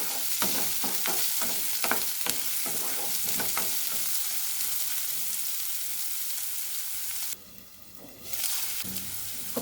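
Vermicelli upma frying and sizzling in a pan while being stirred, with a steady hiss broken by repeated scraping strokes and a brief quieter dip near the end; no one speaks.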